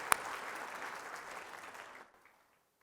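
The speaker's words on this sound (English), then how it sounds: "Let's give them a round of applause." Audience applause for the emcees at a gala evening, a steady dense wash of clapping that holds for about two seconds and then quickly dies away, with no voices over it.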